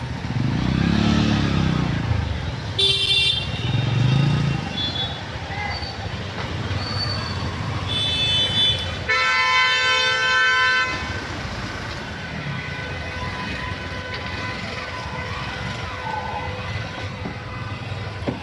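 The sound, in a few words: road traffic with car horns honking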